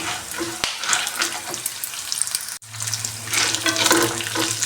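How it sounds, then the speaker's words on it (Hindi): Almonds, peanuts, melon seeds and cashews fry in a pan with a steady sizzle and crackle, broken by stirring scrapes and a sharp clank from a utensil. "अब इनको मिलके फ्राई करेंगे।"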